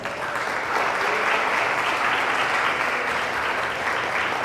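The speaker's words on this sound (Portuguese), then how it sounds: "Diz amém e dá um aplauso ao Senhor Jesus." A church congregation applauds, a dense, steady clapping that swells quickly and holds at full strength throughout.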